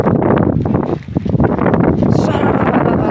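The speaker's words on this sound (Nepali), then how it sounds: "यस्तो दामी हावा चलिरहेछ।" Strong wind buffets an outdoor microphone in a Himalayan setting, a loud continuous roaring rush with a brief lull near the middle before it surges back steadily.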